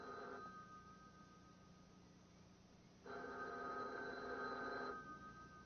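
A telephone rings in two bursts with a gap between them, a clear warbling electronic ring set against a quiet room.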